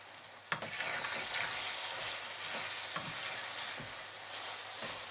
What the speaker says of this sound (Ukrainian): Трохи солодкого перчику додаємо. Помішаємо.